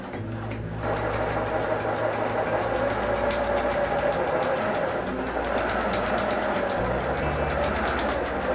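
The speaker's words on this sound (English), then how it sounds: "I'm going to bring it back over to our sewing machine." A home sewing machine stitches a half-inch seam on fabric for a reusable lunch bag, a steady whirring motor hum running continuously and close for several seconds with no talking.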